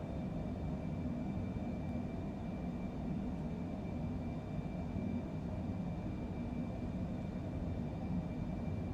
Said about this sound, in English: Takeoff thrust set.